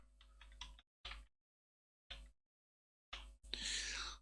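Short bursts of computer keyboard typing come in separate clusters with silent pauses between them, closing with a longer, noisier run of keystrokes, all close and soft.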